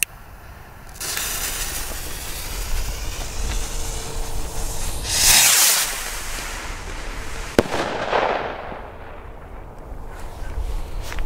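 A Thunder Kong Headbanger firecracker by Leslie, set off on New Year's Eve, goes off with one sharp, loud bang over steady background hiss and rumble, with no talking.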